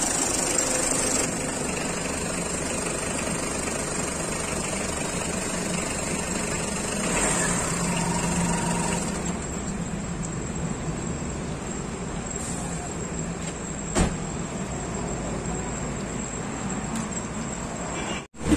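The engine of a Tata Indigo CS runs during a major service so the steering oil drains out, a steady, fairly loud idling drone with some metallic clatter that stops abruptly at the end.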